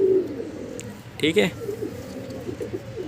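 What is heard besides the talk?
pigeon cooing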